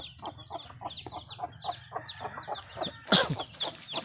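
Free-ranging chickens cluck in a repeated, fairly quiet series of short calls, ending in a louder squawk.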